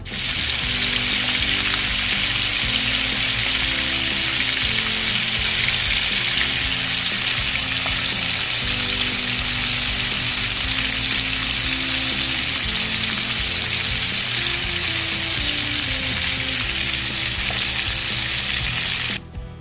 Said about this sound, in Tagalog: priprito natin sa labas guys kasi dito mabaho